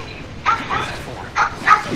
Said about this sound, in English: That's your fucking dog barking in the background.